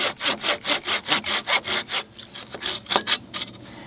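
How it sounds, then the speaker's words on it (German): A pull saw cuts into hard ash wood with rapid, even back-and-forth strokes, loud and close, about a dozen rasping strokes that slow and grow more irregular toward the end. "ich mag jetzt hier bei dieser Esche, und das ist auch hartes Holz, da mal reinsägen"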